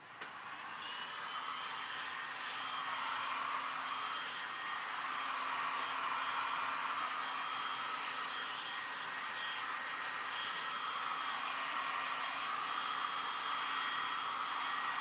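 A hair dryer blows continuously on a paper craft project, giving a steady, loud whooshing hum with a slight whine that holds without a break for about fifteen seconds.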